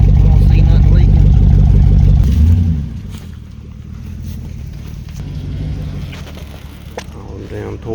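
A car engine with a misfire idles roughly and loudly, its uneven chugging dominating the first few seconds before dropping to a quieter running hum, with people talking nearby over it.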